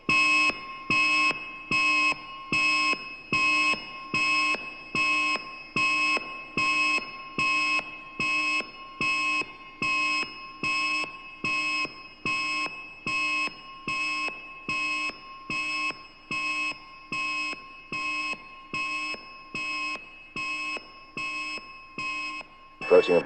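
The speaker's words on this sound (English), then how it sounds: "We have an alarm." An alarm in a surgical operating setting beeps in a steady, evenly spaced pattern of about twenty loud tones, repeating without change for over twenty seconds.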